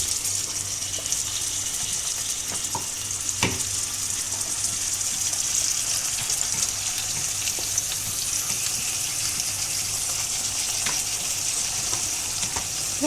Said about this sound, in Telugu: ఆనియన్స్ ఫ్రై అయిపోయాయి కదా ఇవి కూడా వేసేసుకోవాలి అందులో